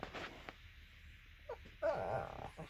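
A dog whimpers softly with a brief high whine near the end, quiet and close, amid light shuffling and no speech.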